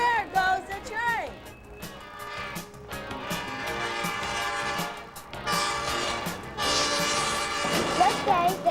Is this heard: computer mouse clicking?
no